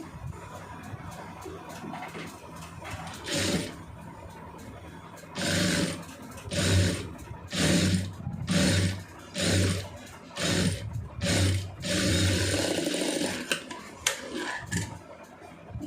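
A sewing machine runs in bursts as it stitches a lined, cross-cut blouse, its mechanical whirring starting and stopping in roughly eight short runs, close and loud, with quiet gaps between.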